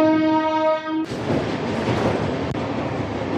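Tirupati AC Double Decker Express (22707) pulling out of Vijayawada station: a steady, loud broadband rumble of the moving train, preceded by a brief sustained tonal horn-like sound in the first second.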